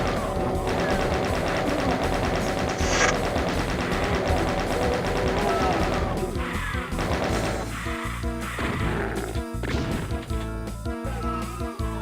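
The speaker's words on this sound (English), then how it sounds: "These enemies just keep walking in front of my actively firing chain gun" A chain gun firing continuously in the shooter Doom, a dense, loud stream of rapid shots mixed with crashing impacts and music, breaking into choppier bursts toward the end.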